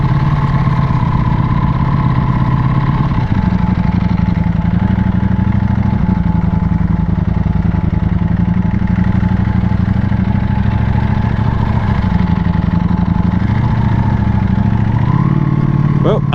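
A Ducati Panigale V4S sits idling at a Honda bike meet, its engine giving a loud, steady close-up rumble with a few small throttle blips, while people talk nearby.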